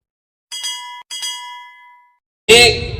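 A notification bell sound effect: two bright, ringing dings, the second left to fade out, then an abrupt loud noisy burst near the end.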